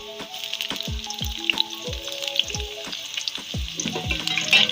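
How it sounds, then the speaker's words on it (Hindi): Chopped onions frying in hot oil in a kadai for chicken liver masala give a steady, close sizzle with scattered crackles and pops, over faint background music. "अब मैं इसमें अपने प्याज कटे हुए डाल दूंगी"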